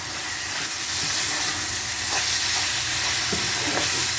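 Pepper steak sizzling loudly in a hot pan while being stirred, a dense continuous hiss and spatter close up with faint scraping underneath, no talking.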